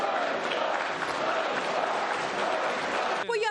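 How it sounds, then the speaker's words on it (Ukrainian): Members of parliament fill the chamber with loud, continuous crowd noise of applause mixed with shouted jeers, sustained throughout before a brief voice cuts in at the end. "вигуки «ганьба» від опонентів."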